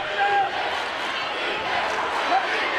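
Crowd noise at a 5A girls' high school state championship basketball game between Greenwood and Jonesboro, a steady broad roar of cheering with a whistle-like squeak early on, continuous and fairly loud throughout.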